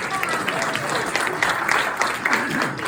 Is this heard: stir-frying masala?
no